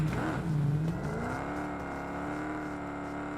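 Vehicle engine in a video game, a steady close whirring drone with the pitch dipping and then settling into an even hum, loud and continuous throughout with no speech.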